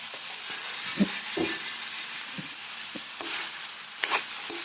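A spice tempering sizzles steadily in hot oil while a gravy of fresh pigeon peas is roasted for dal, with a constant hiss and scattered sharp stirring clacks against the pan.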